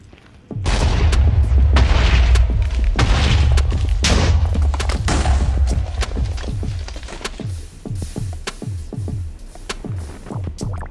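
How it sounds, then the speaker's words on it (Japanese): Rapid series of loud explosive booms and crackling bursts in Minecraft, dense at first then thinning into sharp separate pops, like a fireworks barrage. "あ、これもしかして花火の爆破かもしれない。"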